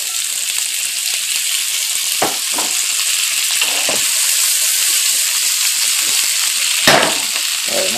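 Green beans frying in hot canola oil for pancit bihon, a steady bright sizzle throughout with a few soft stirring clanks and one louder pop near the end; no talking.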